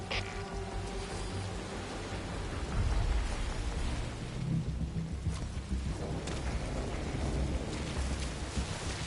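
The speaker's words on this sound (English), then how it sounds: "Still raining a storm right now." Steady rain pours in the Metal Gear Solid: Ground Zeroes game world, with low thunder rumbling through the storm and a dense hiss of drops that swells slightly midway and never lets up.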